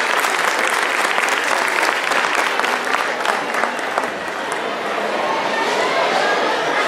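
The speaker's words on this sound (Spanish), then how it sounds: "Un fuerte aplauso." A crowd gives sustained, loud applause at a community tribute event in Orocovis honoring Roberto Clemente's legacy, dense clapping filling the space steadily with some voices mixed in.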